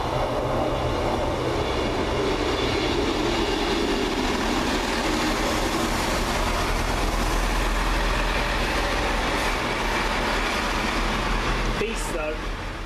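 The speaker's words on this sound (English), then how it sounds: "Oh, here comes the train to York." A two-coach Class 158 diesel train bound for York pulls into a station, a loud continuous engine rumble and rail roar filling the scene, with a brief brake squeal toward the end.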